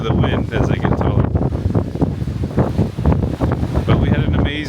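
Strong wind buffets the microphone in Grundarfjörður, Iceland, a loud continuous low roar with gusty surges that persists throughout, with a voice talking faintly beneath it.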